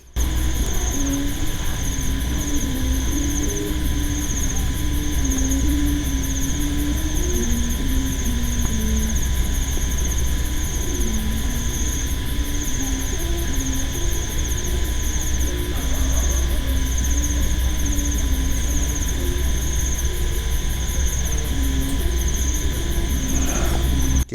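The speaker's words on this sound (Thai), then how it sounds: "ฟังเสียงก็รู้ครับเสียงสนูลั่นแบบนี้มาเป็นดอก ๆว่าวนี่ควงหมุนมาทางนี้นะครับผม" A Thai Chula kite's bow hums in flight at night in hot late-March wind, a steady droning whir with wavering pitch that holds throughout, close and fairly loud.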